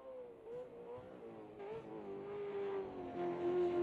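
A race car engine rises and falls as it revs through gears during the Bathurst 1000 top ten shootout, faint and distant, with a steady buzzing tone and no talk.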